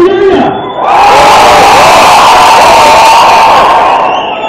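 A large crowd at an Idle No More flash mob rally cheers, whoops and shouts loudly and continuously, a dense roar of many voices that swells after a brief opening dip and holds throughout.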